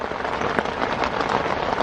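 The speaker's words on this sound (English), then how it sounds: "The rain's really coming down now." Heavy rain pouring down outdoors during a carp fishing trip in Italy, a dense, steady hiss of drops hitting surfaces, loud and continuous with no voices.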